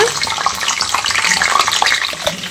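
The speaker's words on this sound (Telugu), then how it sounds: "ఇప్పుడు మనం కాకరకాయ వేయించుకున్న ఆయిల్ లోనే 10 నుంచి 15 వరకు ఎల్లిపాయలు వేసి వేయించుకోవాలి" Garlic cloves fry in oil left over from frying bitter gourd for a pickle, giving a steady, close, fairly loud sizzle that crackles evenly throughout with no talking.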